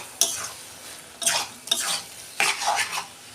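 Kochu shak with a hilsa fish head is stirred in a pan, three or four distinct scraping sweeps of a spoon over a soft background sizzle, close and clear with no talk.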